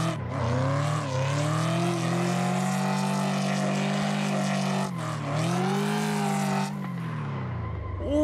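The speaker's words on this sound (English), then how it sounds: "Pop this Mustang in the third." A Ford Mustang in the Assetto Corsa racing game: a loud, continuous engine drone held steady in third gear, with pitch dips near the middle and toward the end as revs change, no talking.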